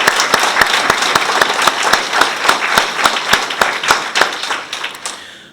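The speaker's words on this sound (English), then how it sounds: "please join me in another big round of applause for all of our high school award winners and our participating high school artists" An audience at a regional art show awards ceremony applauds high school award winners and artists, a loud, full burst of clapping with a rhythmic beat running through it, fading out at the close.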